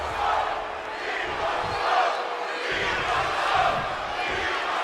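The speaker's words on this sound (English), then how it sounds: "The crowd seems to be behind the Street Profits, chanting, "We want the smoke."" In WWE 2K22 Universe Mode during a RAW tag team match, an arena crowd chants in swelling rhythmic waves, loud and continuous, with a faint voice underneath.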